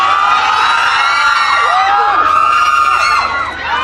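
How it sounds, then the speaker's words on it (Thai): Cheering crowd at a Thai awards ceremony on a purple carpet, loud and continuous, with high excited shouts and whoops rising over a dense roar of many voices throughout. "มีเสียงเชียร์กันเลยนะคะ"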